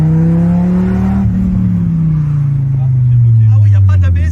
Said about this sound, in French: C'est la première fois que je bloque les roues